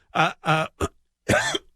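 Several sharp throat-clearing coughs, three quick ones followed by a longer rasping one after a short pause, close and loud.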